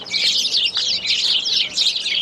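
Dense, continuous high-pitched chirping from many birds indoors in Quebec City, lively and overlapping throughout, fairly close and loud, with no talking.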